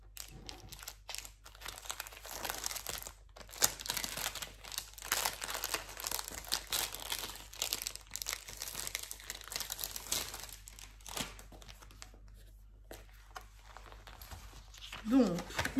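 Crinkling and tearing of plastic packaging as a 40 by 40 round-diamond painting canvas kit is unwrapped, steady close rustling and crunching over about sixteen seconds, with a brief voice near the end.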